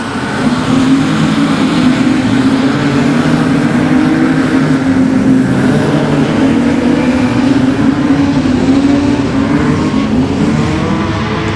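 Loud, continuous roar of modified sedan race cars at full throttle at Kingaroy Speedway, engines droning together without a break.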